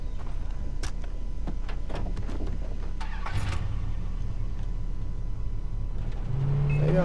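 Car driving in Far Cry 3, a steady engine drone under scattered clicks and knocks, with a rising rev or whine near the end.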